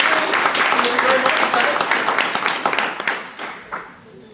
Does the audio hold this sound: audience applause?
yes